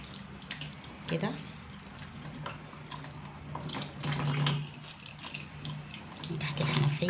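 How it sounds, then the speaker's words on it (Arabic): Tap water runs steadily from a kitchen faucet as a tuna is rinsed under it, a continuous splashing stream with small surges, close up, with faint voices underneath. "من تحت الحنفية كده، لما هي نازلة كده ايه عليها"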